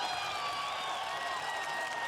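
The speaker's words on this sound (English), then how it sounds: "Another round of applause" Steady, soft applause from a group at a leaders' briefing on a global network of locally led health organizations, an even wash of clapping with a faint tonal hum running underneath throughout.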